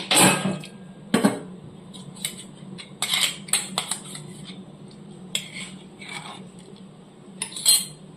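A tamarind broth mixture being stirred briskly in a cooking pot, with a spoon clinking and scraping against the metal in a quick run of sharp knocks over a low steady background hum.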